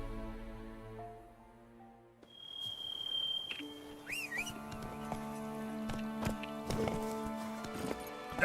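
Clip-clop of Roach the horse's hooves in The Witcher 3 video game, a soft rhythmic trot that enters after a quiet musical opening and continues beneath tonal game music and effects.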